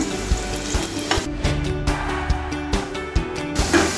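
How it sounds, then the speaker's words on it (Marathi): Slices of alu vadi, Maharashtrian colocasia leaf rolls, shallow-frying on their second side in a pan over medium gas, giving a continuous close sizzle broken by repeated clacks and scrapes of a spatula. "अशा प्रकारे आपण अजून एक दोन ते तीन मिनटं मिडियम गॅसवरती दुसऱ्या बाजूने सुद्धा वड्या भाजून घेऊया"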